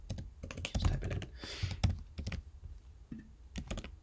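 Fast typing on a computer keyboard, close and fairly quiet, with irregular bursts of clicking keystrokes and brief pauses between runs.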